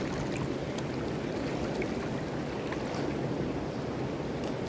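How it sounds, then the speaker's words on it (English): Waves rolling in around a small paddled boat on open water, a steady, faint wash of surf and water noise with light wind, no voices. "Got waves coming in here,"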